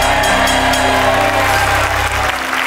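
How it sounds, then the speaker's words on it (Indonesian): Studio audience on the Family 100 game show clapping loudly and steadily, a dense wall of applause with some crowd noise that tapers slightly at the end. "kasih tepuk tangan dong untuk ciwi-ciwi"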